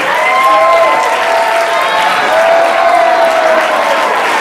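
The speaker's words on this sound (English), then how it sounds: "Give it up for Kingston." A theater audience at a grief-themed stage play applauds and cheers loudly as cast member Kingston is introduced, a dense, steady wash of clapping with whoops mixed in that holds for several seconds.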